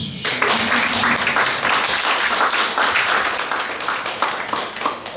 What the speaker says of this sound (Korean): 박수 좀 쳐주십시오.